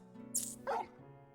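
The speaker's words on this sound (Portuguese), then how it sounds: "O cachorro te responde, Leque." Torgal, a frostwolf hound in Final Fantasy XVI, gives two short yipping barks, the first high and the second lower, over a low steady game soundtrack.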